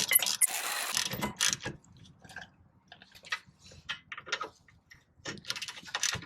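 Front and rear brake bolts on a Toyota RAV4 are started and snugged up by hand, with quick metallic ratchet clicks, taps and tool rattles in short irregular bursts, close by and alone.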